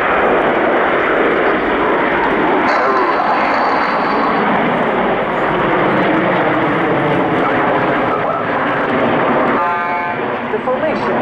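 Frecce Tricolori jets fly a rolling formation, a loud, sustained engine roar filling the air for the full stretch, with a voice narrating over it.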